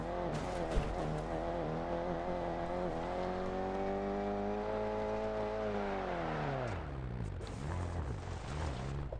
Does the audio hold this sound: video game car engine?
yes